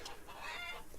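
Rooster in the farming game Farmer's Dynasty, clucking a few times close up over a steady farmyard background, with no voices.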